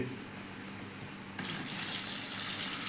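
Tap water gushes into a sink as grapes are washed for juice, a soft hiss that suddenly swells louder partway through and then runs on steadily.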